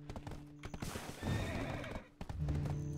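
Horse hooves clip-clop in the fantasy MMO Black Desert Online near Calpheon, with a whinny and several sharp hoofbeats over game ambience, fairly close and clear.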